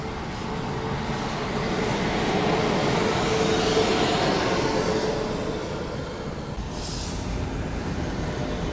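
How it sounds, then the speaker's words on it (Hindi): Hazrat Nizamuddin–Madgaon Rajdhani Express passing on a parallel track, a steady loud roar of wheels and rushing air with rhythmic rail clatter and faint squeal, sustained throughout without speech. "यहाँ पे अपनी क्रॉसिंग हो रही है अभी हज़रत निज़ामुद्दीन मडगांव राजधानी एक्सप्रेस"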